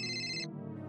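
A telephone ringtone from a Marathi TV serial scene rings once as a short, bright electronic tone that cuts off abruptly, leaving a fading low hum.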